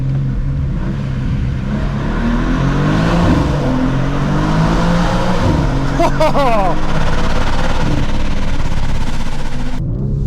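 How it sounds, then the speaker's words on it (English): A BMW M2 (G87) engine roars steadily from close by in a tunnel, its note rising and falling as it revs, with a boomy, enclosed echo. "Let's see how the M2 sounds in the tunnel."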